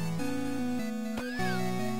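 A cat meows once in the Star of Providence video game, a short tonal call with a rising-falling pitch heard over steady game music.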